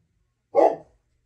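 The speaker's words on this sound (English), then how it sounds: "Oh, I told you the barking would start." A dog gives one short, sharp bark indoors in a home sewing space, fairly close and loud, with silence before and after it.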